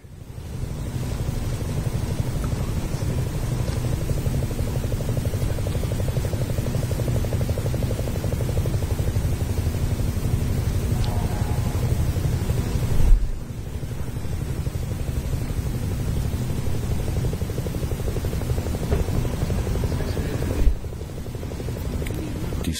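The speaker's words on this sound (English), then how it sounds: "as the shuttle carrier aircraft and Endeavour" Shuttle carrier aircraft carrying the Space Shuttle Endeavour on approach to runway 33 at Kennedy Space Center's shuttle landing facility, heard as a steady, loud, low jet engine roar that holds constant throughout, with brief dips and a couple of thumps.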